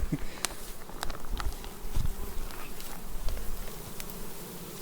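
Honey bees and drones hum around beehives at an apiary, a dense continuous buzzing swarm close by with individual insects passing near.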